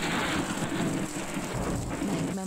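Rain pours steadily in Karachi during the monsoon, a dense, loud, unbroken hiss with a low rumbling undertone throughout.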